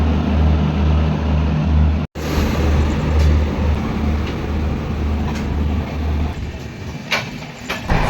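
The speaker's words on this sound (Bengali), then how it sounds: "ট্রেন আমাদের ছেড়ে দিয়েছে ধানবাদ স্টেশন থেকে" Inside the 22912 Shipra Express as it runs out of Dhanbad station, a loud steady rumble of wheels and carriage fills the space, broken by a brief sharp cutout and faint rattles, with no voices.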